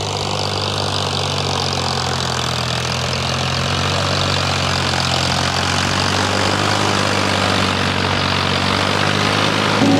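A tractor engine runs at raised RPM with a steady, loud, close drone that holds evenly throughout with no pauses or voices.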